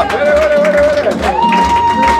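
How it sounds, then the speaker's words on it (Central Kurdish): A crowd claps and sings together in a loud, steady burst, with a sustained melodic voice rising above the rhythmic applause. "بە چەپڵە و گۆرانی پێشوازیان لێ دەکەن"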